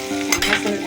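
Fish fry in a hot pan, oil sizzling loudly and close while the pieces are turned over, with a brief scrape of the flip in a continuous crackle.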